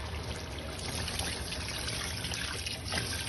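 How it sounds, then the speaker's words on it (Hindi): Water poured into a biryani pot over softened potatoes, a steady continuous trickle and splash, close and moderately loud, running alone without talk throughout. "अब इस मौके के ऊपर हमने इसमें बिस्मिल्लाह पानी ऐड कर देना है"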